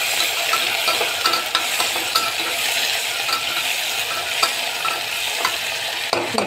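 Chopped onions frying with reddened garlic in hot oil, a constant bright, close sizzle with frequent clicks and scrapes of a metal spoon stirring the pan.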